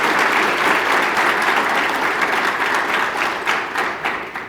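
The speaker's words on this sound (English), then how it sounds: "Let's shout, give applause, and open together the 17th AGM" An audience at the 17th annual general meeting of the Ethiopian Society of Orthopedics and Traumatology breaks into loud, dense, continuous applause that holds steady and then begins to taper off near the end.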